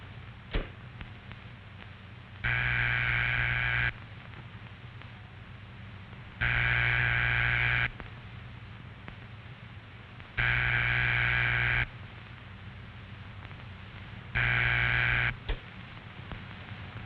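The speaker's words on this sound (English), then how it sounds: "That's the ringing signal." A telephone ringback tone sounds four times, each buzzing tone lasting about a second and a half with long quiet gaps between, steady and evenly spaced.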